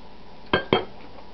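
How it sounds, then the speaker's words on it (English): Homemade young coconut durian kefir set down in a glass jar, giving two quick close glassy clinks about a fifth of a second apart over a quiet background hiss. "And here we go, we place the kefir into the glass jar there."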